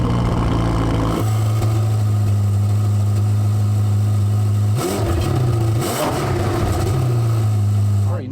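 A Ferrari 488 Pista Spider V8 fires up with a sharp rev flare, then settles into a steady, loud idle close by, with a couple of brief throttle blips later on; people talk quietly over it.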